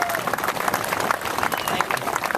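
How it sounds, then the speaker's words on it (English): Crowd applause at an outdoor Second Amendment gun rights rally on a city common, a steady dense wash of clapping and cheering that holds at an even level throughout with voices mixed in. "So give yourself a pat on the back and an applaud."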